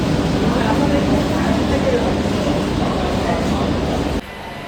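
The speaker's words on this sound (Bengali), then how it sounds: "এই বাস থেকে ঢুকছে নিউ দিল্লি থেকে হাওড়া পূর্বা এক্সপ্রেস" The New Delhi–Howrah Purva Express via Gaya pulls into Howrah Junction station, a loud broad rumble and rolling clatter filling the clip before dropping away abruptly near the end.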